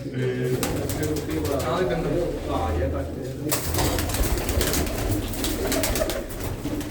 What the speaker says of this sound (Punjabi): ਭਾਜੀ ਹੁਣਾਂ ਨੇ ਕਬੂਤਰ ਫੜਿਆ